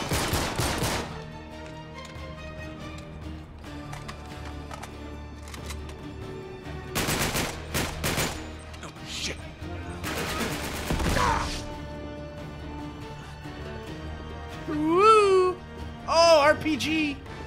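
Sniper and automatic gunfire in the PS3 game Uncharted 3: Drake's Deception, with several loud broadband bursts of shots spread through the scene, game music and effects beneath, and someone talking over it.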